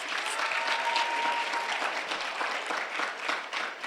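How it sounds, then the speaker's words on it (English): Steady, dense applause from a crowd, continuous and fairly loud throughout with no pauses. "Can we give another round of applause to all of our amazing presenters?"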